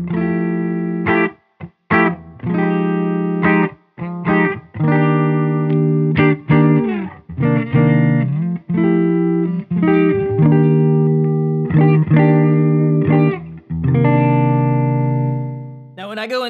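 Electric guitar, a Scythe Guitars OH-19 with gold foil pickup, played through a DOD Chthonic Fuzz pedal into a Silk Tone amp: loud, fuzzy distorted chords and riffs with brief gaps between phrases, played solo with no talking.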